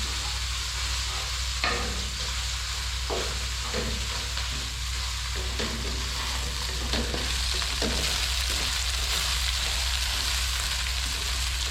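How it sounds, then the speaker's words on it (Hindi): Ginger garlic paste frying with browned onions for village degi yakhni pulao, a constant close sizzle with occasional stirring scrapes throughout, no voices. "अब इसके अंदर अदरक लहसुन का पेस्ट है 2 चम्मच, ये डाल देते हैं और इनको भी फ्राई कर लेते हैं प्याज़ों के साथ।"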